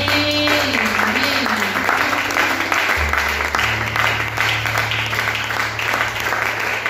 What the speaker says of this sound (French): Ça s'acclame.